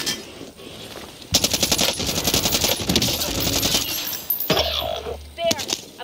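Bursts of light machine gun fire in a multiplayer shooter game, loud rapid volleys crackling amid other gunfire and battle effects, with game voice chatter mixed in.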